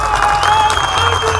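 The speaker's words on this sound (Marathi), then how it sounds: "पुन्हा एकदा महाराष्ट्राने टाळ्या वाजवा" A crowd at a public gathering in Maharashtra claps loudly in a brief, dense burst of applause, close and continuous.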